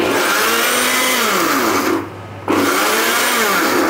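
A kitchen blender grinds chili with dried bamboo-leaf fish and water, a loud continuous motor whine that briefly drops and quiets mid-way before surging back to full speed.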